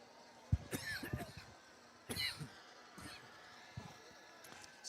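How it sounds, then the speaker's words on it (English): A man coughs in a few sharp bursts at an outdoor high school football game, with short gaps between them and wind noise in the background. "Somebody get that man a cough drop."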